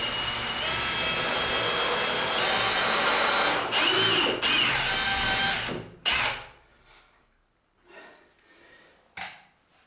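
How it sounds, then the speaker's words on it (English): A power drill driving a screw into wood whirs steadily for several seconds, revving in short bursts, then stops; a few brief clicks and scrapes follow in the quiet. "because the drill's going in, the screw's going in at an angle"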